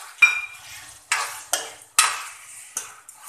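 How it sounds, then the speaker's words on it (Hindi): Green chillies tossed into fenugreek leaves frying in a pan give off several sharp, close sizzling bursts with brief stirring scrapes between them, and no voices. "इसमें हम हरी मिर्च डालेंगे"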